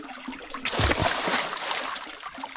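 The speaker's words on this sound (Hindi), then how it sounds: "देख रहा पानी के अंदर कैसे घूम रहा है गोल करके" A child splashes water in a small water tank used as a swimming pool, with a burst of sloshing and splatter in the middle of the clip over a steady background hiss.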